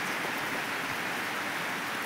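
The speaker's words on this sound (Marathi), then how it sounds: "बाहेर पाऊस चालू आहे" Steady rain falls outside a cattle shed as a dense, even hiss of drops on surfaces, continuous and fairly close with no pauses and no voices.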